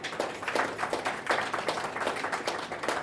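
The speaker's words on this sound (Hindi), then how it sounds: "ताली तो बजाओ।" Listeners at a spiritual talk on yoga clap together in a faint, fairly even rhythm, the claps sounding distant and soft throughout.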